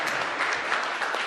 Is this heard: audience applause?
yes